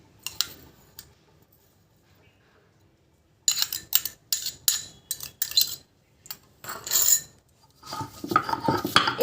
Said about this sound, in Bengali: আর এখন কিন্তু আমি একটা শিলপাটার সাহায্যে ভালো করে বেটে নেব